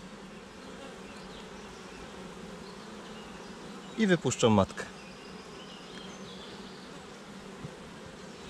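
Honeybees drone steadily around a queen cage placed in a nucleus colony hive, while someone speaks briefly midway over the close, continuous buzz.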